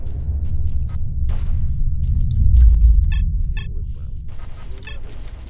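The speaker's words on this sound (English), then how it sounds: "It's a blowout!" A blowout emission in Call of Chernobyl builds as a deep, heavy rumble that swells to a peak midway and then eases off, with scattered short tonal cries and clatters above it.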